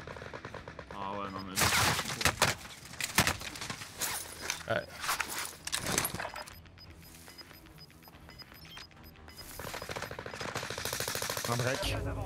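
Video game gunfire aimed at the player rings out in sharp automatic bursts and single shots, loud and close, with footsteps and team chatter in between.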